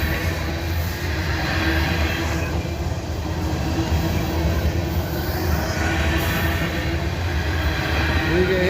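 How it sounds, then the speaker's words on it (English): A train runs steadily over rails that were freshly ground, a continuous loud rumble of wheels and rail noise with a faint high squeal, no breaks, no talk. "You can hear the noise on the rails."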